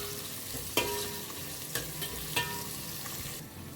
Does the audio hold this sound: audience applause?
no